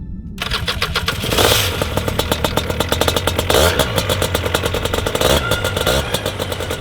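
A steady, loud engine runs continuously on an ultralight bush-flying trike spinning a three-blade 140 cm propeller, with a fast regular pulsing beat and no talking.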